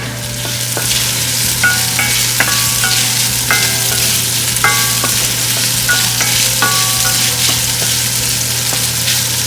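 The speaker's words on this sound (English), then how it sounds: "I'm going to put the pork first, so we can cook it golden brown before we put our onion and garlic." Pork pieces sizzle steadily in olive oil in a pan as they brown for adobo, with a constant close hiss broken by light, intermittent clinks of a utensil stirring the meat.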